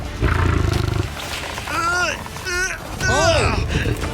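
A lion roars during a tug-of-war against a man pulling on a rope: several loud, drawn-out roars rise and fall close by, with people talking over and between them.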